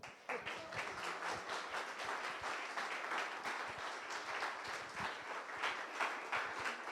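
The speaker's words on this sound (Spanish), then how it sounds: "¿Es un aplauso?" An audience at a talk on artificial and natural intelligence claps at moderate volume, a steady, fairly sparse spatter of individual hand claps lasting several seconds.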